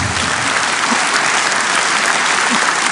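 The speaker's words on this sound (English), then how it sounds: "Applause." Applause fills a hall at a Ukraine recovery conference in Gdańsk, a dense, sustained crowd clapping at even loudness throughout.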